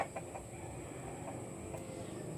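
Chickens cluck softly near banana plants outdoors, low and scattered over a steady background hum.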